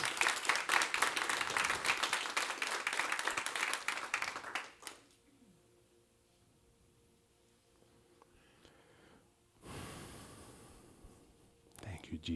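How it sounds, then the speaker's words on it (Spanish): A crowd claps in a dense burst of applause for several seconds, followed by quiet murmuring, then a second short wave of clapping. "Den un fuerte aplauso a Cristo."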